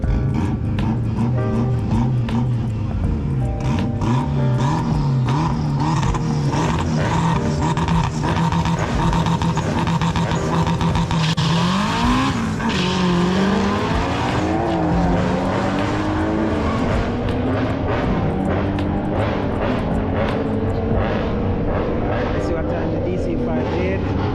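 A loud turbocharged Honda K24 drag racing car engine roars continuously at a drag race in Jamaica, revving up and down through gear changes with a dense, rasping exhaust note, close and overwhelming throughout.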